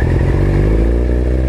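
A motorcycle engine runs loud and close with the throttle held open, giving a continuous rough drone with some clatter as a rider learns to ride, no voices over it.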